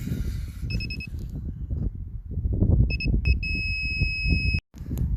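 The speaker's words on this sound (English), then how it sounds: "it'll either beep fast or slow if you're above or below level with where you want to be" Construction grade level receiver beeping on a homestead building site, sounding in short bursts and then one long steady tone, heard over windy outdoor background noise.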